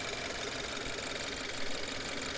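A 2014 Subaru Levorg 2.0GT with its 2.0-litre engine idling, a steady, even hum with a fine rapid pulse, heard up close with no talking.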